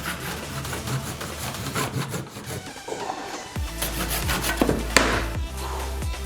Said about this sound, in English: We're gonna finish this off with the handsaw